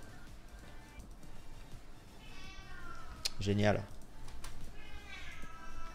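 Meows from a cat in a video game, two drawn-out cries a few seconds apart over a steady game background, with someone speaking briefly in between.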